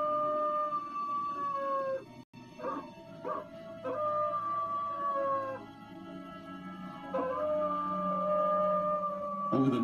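A coyote in Yellowstone howls in long, wavering, sliding notes, with several rising and falling calls and brief yips close by, no talking.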